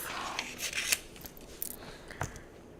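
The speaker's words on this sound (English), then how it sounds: "We're going to cut that right off." Scissors snip through paper, cutting out a picture for a vision board, in several short close crisp cuts spaced irregularly, with faint rustling between them.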